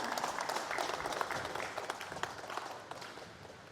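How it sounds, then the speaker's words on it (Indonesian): An audience at a formal provincial government ceremony gives a short round of applause, a fairly faint, even patter of clapping lasting a few seconds. "Boleh kita berikan apresiasi dengan tepuk tangan yang meriah, kita saksikan bersama."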